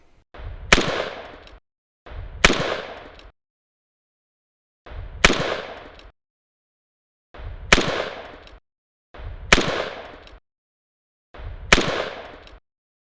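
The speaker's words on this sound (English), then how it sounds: "We fired this now with 762x39 AK47 round." An AK47 rifle firing 7.62x39 rounds at lightweight body armor in a protection test: six sharp, loud shots, some in quick pairs, separated by gaps of silence, each with a short ringing tail.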